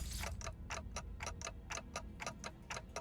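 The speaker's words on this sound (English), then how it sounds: "all I can hear is the clock ticking" Steady clock ticking in the game Limbus Company, evenly spaced crisp ticks repeating about every quarter second, loud and close over a low droning background, no voices.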